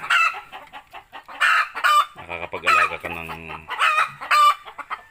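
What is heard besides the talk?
native chickens clucking and roosters crowing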